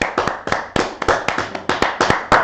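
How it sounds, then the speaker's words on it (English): A few people clapping in a podcast studio, sharp close hand claps in a loose, uneven rhythm, several overlapping, with no talk during the clapping. "Round of applause, everybody."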